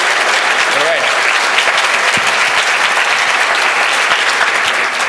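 A conference crowd at PyCon applauds to welcome a speaker, with steady, loud, sustained clapping from many hands throughout and a brief vocal sound near the start.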